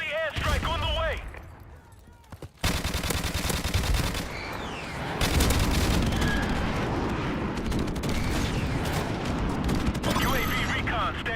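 Rapid gunfire and bursts of explosions from a Call of Duty 4 Remastered multiplayer match, with an airstrike hitting. Dense, loud and continuous throughout, with a brief lull near the start and short announcer-style voice lines over the top.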